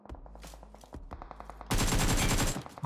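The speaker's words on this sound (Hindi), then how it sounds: "अब तुम देख सकते हो कि सामने की तरफ फायरिंग हो रही है" Gunfire in the battle-royale game BGMI, first as rhythmic single shots at a steady pace, then a sudden loud, dense burst of rapid automatic fire that cuts off near the end.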